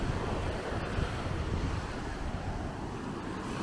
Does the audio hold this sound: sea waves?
yes